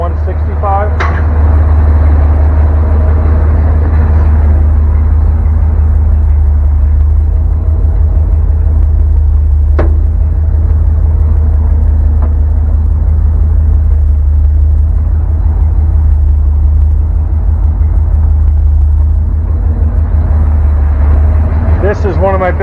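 A big-block V8 in a 1957 Chevy truck idles with its electric cooling fans running, giving a loud, steady, low rumble and whir that continues unbroken throughout.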